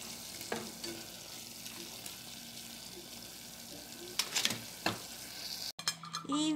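Meat-filled tortillas fry in a pan with a steady low sizzle and a few utensil scrapes, then a brief cut and louder clattering near the end.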